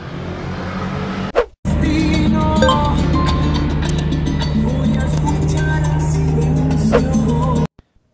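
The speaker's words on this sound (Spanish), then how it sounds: "ya aquí estamos ensayando el carro, quedó full, ya no se recalienta" A Zotye SUV on a test drive after an overheating and electrical repair: a steady engine drone and road noise from inside the vehicle for several seconds, following a brief knock and pause, then stopping abruptly.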